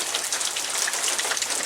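Steady rain falls densely and evenly, a close, continuous hiss of drops with no pauses or voices.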